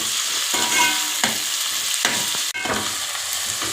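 Tomatoes frying in a pan for mushroom biryani, a loud, close, continuous sizzle broken by brief stirring scrapes and one sudden momentary dip.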